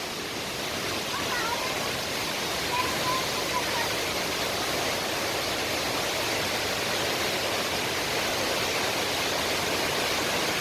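Palovit waterfall in Çamlıhemşin, Rize, pouring hard with a loud, continuous roar and spray hiss close by; a faint voice rises briefly beneath the constant rush.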